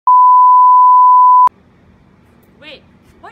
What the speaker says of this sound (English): why do you beep it out?